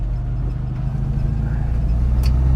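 A restored 1991 Rover Mini City-E 1000 engine pulls away in second gear: a steady low engine drone with a gentle rise in revs, heard from inside the car, continuous and fairly loud.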